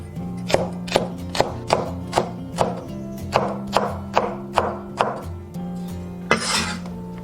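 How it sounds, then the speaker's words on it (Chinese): A knife chops garlic, scallion whites and green and red peppers on a board, about a dozen sharp, evenly spaced thuds in a steady rhythm, close and clear with no talking. "准备几颗大蒜，切小粒， 葱白切粒， 再切一些青红椒备用。"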